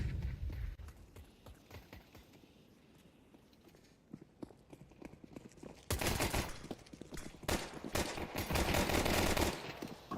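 Counter-Strike match gunfire, including P250 pistol and Dual Berettas, rattles in rapid bursts over footstep-like clatter, growing louder and denser in the second half with sustained shooting.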